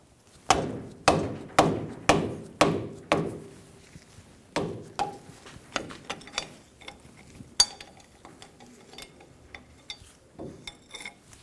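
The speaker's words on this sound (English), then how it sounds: "I'm going to use a wrench and a hammer. I'm going to hit the end of the hammer." A hammer strikes the end of a wrench to break loose the wheel bearing bolts on a 2005–2015 Toyota Tacoma, with six loud, evenly spaced metallic blows followed by lighter, quicker taps and clinks, close by.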